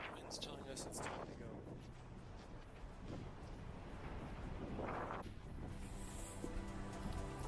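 Wind blows across an exposed spot in the Inyo Mountains near an old salt tram, a steady broadband rush buffeting the microphone, with people talking faintly beneath it.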